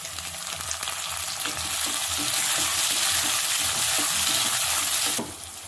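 Finely chopped onion and tomato fry in hot oil with mustard seeds for a mushroom gravy, a loud continuous sizzle with scraping stirs, cutting off sharply near the end; no one speaks.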